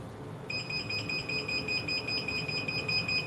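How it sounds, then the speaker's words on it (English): After a brief pause, a heat press timer starts beeping in a continuous high-pitched electronic tone that keeps sounding steadily, fairly close, with no talking. "I'm going to let it beep for a little bit."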